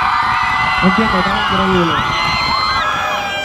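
A concert audience at a live show cheers loudly with whoops and shouts under a singer's spoken words, a continuous bright wall of crowd noise.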